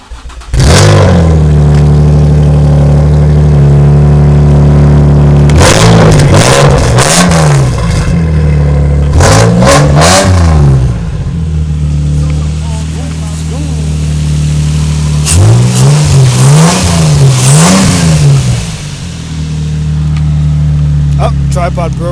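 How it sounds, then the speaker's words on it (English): A Nissan 350Z exhaust starts up and revs repeatedly, loud and close, with deep engine drone broken by several sharp throttle blips, sometimes two or three in quick succession, between steadier idle stretches. "we gotta get that startup exhaust"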